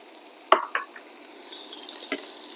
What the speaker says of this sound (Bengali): দিয়ে এটা আমি মিডিয়াম আঁচে রেখে এটাকে পিঠার পুর তৈরি না হওয়া পর্যন্ত আমি এটা এভাবে রান্না করে নিব